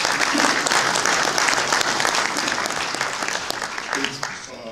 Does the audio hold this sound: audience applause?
yes